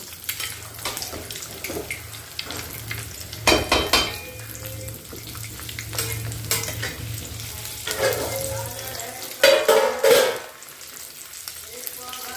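Chicken kosha cooking in a covered pan, a low steady sizzle and bubbling with intermittent clatter and scraping, plus a loud burst of clanks and rattling near the end, close and fairly loud with no talking.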